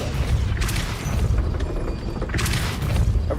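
A Depulso spell blast in Hogwarts Legacy booms out twice, each a broad forceful whoosh-and-thud about two seconds apart over a continuous low rumble.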